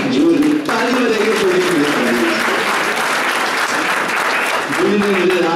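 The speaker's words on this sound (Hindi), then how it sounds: "जूली ताली बजाइए" A lecture audience at a motivational talk claps steadily for several seconds, loud and dense throughout with a brief dip near the start, while a voice seems to carry on faintly beneath the applause.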